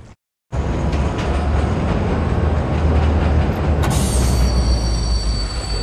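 A tunnel glider runs along rails through an underground tunnel in Wolfenstein: The New Order, a loud continuous rolling rumble rising into a high metallic squeal near the end.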